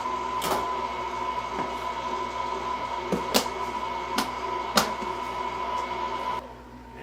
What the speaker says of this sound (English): we're just going to let that start mixing. Don't let your mixer go above 2.